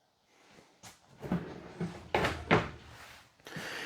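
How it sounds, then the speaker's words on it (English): A pull-out drawer in the kitchen of a 2024 Heartland Big Country 3502RKI fifth-wheel RV being handled, several quiet thunks, slides and knocks in a close, irregular sequence. "This right here is a pull-out drawer."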